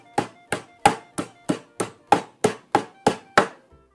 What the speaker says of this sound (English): You still have to pound these even flatter because you have to be able to roll them